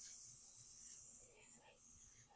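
Faint, steady hiss of an airbrush spraying primer onto a miniature model, soft and airy with slight fluctuations as the spray moves.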